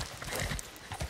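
Horse hooves clip-clop steadily in Red Dead Redemption 2 as the horse struggles up a mountain slope, a brief close run of hoofbeats with no talk.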